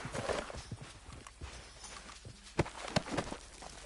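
Horse hooves clip-clop at a walk in a PS4 video game, a loose rhythm of muffled thuds with a few sharper strikes over busy background noise.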